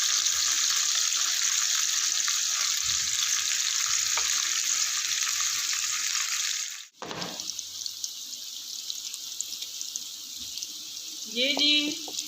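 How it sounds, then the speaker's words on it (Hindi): Onions fry in oil in a pan with a steady, dense sizzle that holds for several seconds, breaks off briefly, then resumes more quietly with faint clinks near the end. "अब हम इन्हें तकरीबन 5 मिनट अच्छी तरीके से फ्राई करेंगे।"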